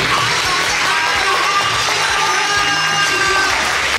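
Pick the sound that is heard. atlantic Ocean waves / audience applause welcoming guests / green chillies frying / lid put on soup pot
audience applause welcoming guests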